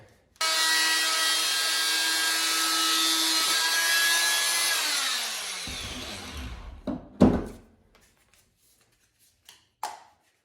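A power tool cuts away part of a Ridgid shop vac filter bag, a loud steady whine running about six seconds before winding down, followed by a few scattered knocks and handling sounds.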